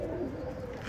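Pigeons coo softly in a low, continuous murmur with a faint bird chirp near the end, no voices present.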